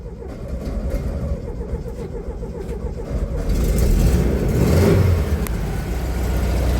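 A classic VW Beetle with a replaced starter motor cranks and then runs, a rough mid-pitched rumble that grows louder and steadier partway through, heard close up.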